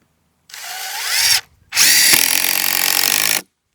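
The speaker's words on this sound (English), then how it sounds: "I'm going to use my screws to screw everything in." A power drill drives screws into walkway beams laid on bare ground, giving two close, loud whirring bursts, a short one and then a longer one, with a brief pause between them.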